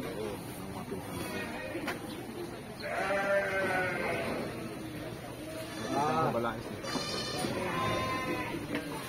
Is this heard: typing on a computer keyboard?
no